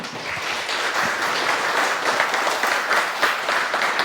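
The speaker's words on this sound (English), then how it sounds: "So give a round of applause for Frank." Sustained audience applause fills a keynote hall at a hacker camp, steady and dense clapping from a large crowd throughout, with no talk over it.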